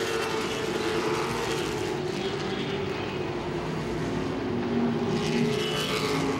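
Late model race cars roar around Langley Speedway in a steady, loud, continuous engine drone with a broad rumble throughout.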